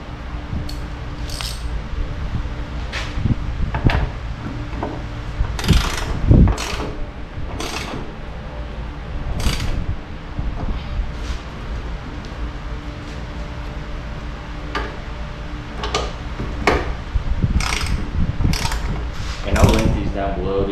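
Ratchet tightening a ditch light mount on a GMC Canyon, producing repeated sharp clicking bursts at an irregular pace, up close and fairly loud against a low mechanical background.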